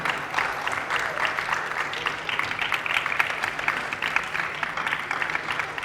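Audience applause at a recognition ceremony, steady moderately loud clapping from a crowd lasting about six seconds, with individual claps audible within the wash.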